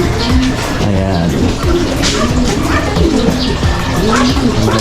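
Breeder pigeons coo in a loft, low repeated throaty calls layered over one another with steady background noise and some talk.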